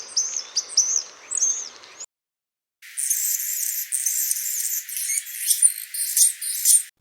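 A songbird, likely a mimic, delivers a varied song of whistles, clicks and squeaky notes, with bright bursts coming in two bouts split by a short silence. It sounds clear and fairly close, and no one speaks.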